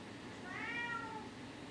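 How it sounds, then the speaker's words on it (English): A single drawn-out cat meow, rising then falling in pitch, over a steady low background hum. "He's the most vocal cat I've ever had"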